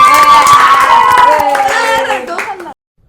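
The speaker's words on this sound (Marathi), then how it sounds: "सगळ्यांनी टाळ्या वाजवा." Audience clapping in a room during a playful awards event, brisk and close, with excited voices and cheers layered over it before everything cuts off abruptly near the end.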